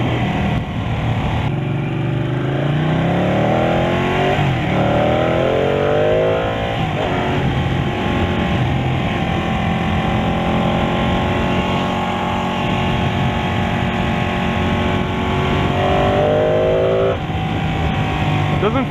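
A 2018 Ducati Panigale 899 revs and climbs through gears on a test ride, the engine loud and near, with repeated sweeping rises and shifts under constant wind noise.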